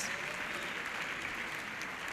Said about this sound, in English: Panel, another huge round of applause for that.